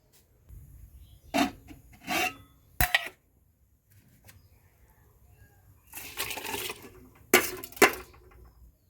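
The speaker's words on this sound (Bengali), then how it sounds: "হাঁড়িতে চাল ঢেলে দিয়েছি" Rice grains are tipped into a cooking pot in several short, rasping bursts, with gaps of quiet between the pours, close and fairly soft, with no talking.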